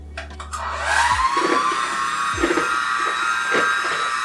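An electric mixer whirs as it blends the sugar mixture for cinnamon rolls, spinning up into a steady high-pitched drone, with repeated bumps and clatters against the bowl at roughly one-second intervals.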